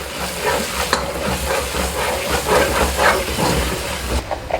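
Chicken karahi being stirred with red chilli, crushed chilli and salt in a pan, a steady sizzle and fry with scraping stir strokes throughout, close and fairly loud, no talking.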